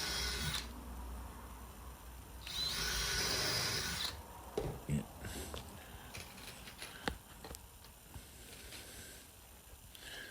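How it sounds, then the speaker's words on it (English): A power driver sends 40mm screws into scrap wood with a short, loud whirring burst, followed by quieter scattered knocks and handling sounds nearby. "I'm just going in with the 40mm screws again"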